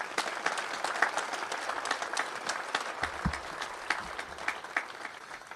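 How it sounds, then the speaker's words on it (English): Mourners at a celebration of life for Ian McIntosh give the family a round of applause, a steady, moderately loud patter of many hands with individual claps standing out, continuing throughout. "I think give the family one more huge round of applause."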